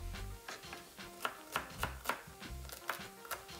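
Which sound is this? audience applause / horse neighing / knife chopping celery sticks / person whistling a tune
knife chopping celery sticks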